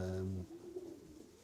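Pigeons coo softly inside a very large loft with clean straw bedding, one low throaty coo followed by fainter murmuring calls.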